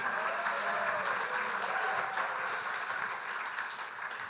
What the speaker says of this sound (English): Everybody, let's give a round of applause before we finish.